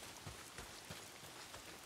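Steady rain falls in the video game Days Gone, a soft continuous hiss of drops spread evenly throughout, quiet and with no talking.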